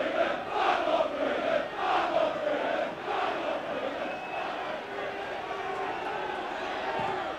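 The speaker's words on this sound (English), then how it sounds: "right now it's the Preston fans who are making the noise" Preston football fans roar and chant in a steady, loud stadium crowd as a corner kick is about to be taken, with rhythmic surges of voices throughout.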